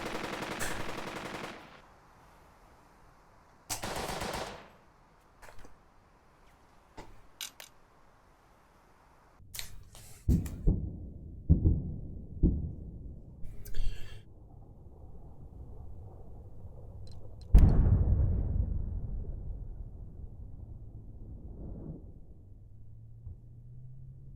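Gunfire in the WW2 tactics game Burden of Command: scattered single shots and short bursts, some sharp and loud, some distant, with a heavy boom near the end trailing into a low rumble.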